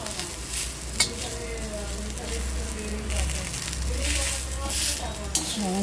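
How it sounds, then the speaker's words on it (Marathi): Cluster beans (gavar) frying in oil in a pan, a steady loud sizzle with stirring scrapes and occasional utensil clinks against the pan throughout. "गवार आता पूर्ण भाजत आलेले"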